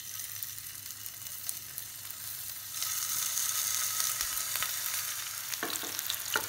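Fish pieces frying in hot oil in a pan, a dense steady sizzle that swells louder partway through, with a few faint stirring scrapes near the end.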